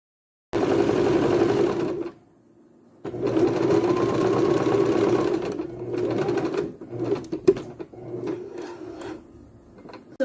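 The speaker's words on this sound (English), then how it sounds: "we're sewing the leg inseam now on the other side" Sewing machine stitching the leg inseam of homemade blanket pants, a steady close whirring run that pauses briefly, resumes, then breaks into shorter stop-start bursts with small clicks.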